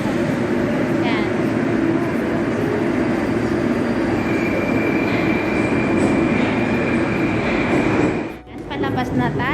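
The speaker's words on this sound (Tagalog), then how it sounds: "ayan yung sinakyan kong train" A metro train rolls steadily along the rails with a continuous rumbling roar and faint squeals, cut by a brief dip near the end; a voice is heard faintly over the noise.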